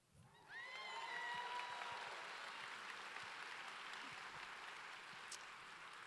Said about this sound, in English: I love that you guys are appreciating yourselves and clapping because you deserve it